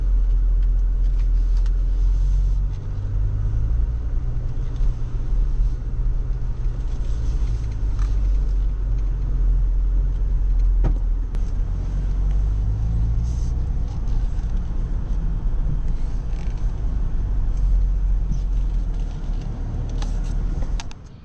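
A BMW M440i xDrive coupe rolls slowly across soggy wet ground on a rural property, its engine a steady low rumble with some tire and body noise throughout.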